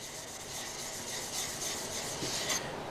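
Cabinet scraper lapped on a 500 grit glass sharpening stone, giving a steady, close rasping rub that runs continuously for a few seconds with no talking.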